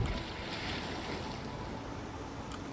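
In the video game The Elder Scrolls Online, Clockwork City, a waterfall rushes in a steady, full wash of falling water that stays at an even level without pause.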